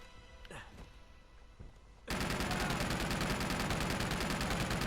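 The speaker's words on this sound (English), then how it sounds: "I'm going to let the machine gun fire" Machine gun fire in Uncharted 2 starts abruptly partway through and pours out as a dense, loud, continuous burst after a quieter stretch of game ambience with a few thumps.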